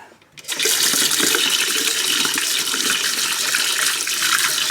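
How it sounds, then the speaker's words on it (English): After a brief quiet moment, very hot water gushes from a tap in a remodelled 1966 Beach trailer in a steady, hissing stream close by. "There it is, hot water."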